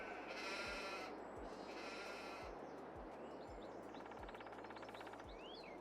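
Sheep bleat repeatedly in Farming Simulator 22, with several drawn-out calls over a steady ambient farm background and faint bird chirps, moderately loud and without talk.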